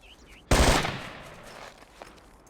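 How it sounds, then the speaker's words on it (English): Sudden loud burst of automatic gunfire in the Ghost Recon shooter game, a dense roar lasting about a quarter second before decaying into a reverberant tail, followed by a faint distant shot. "Who's shooting?"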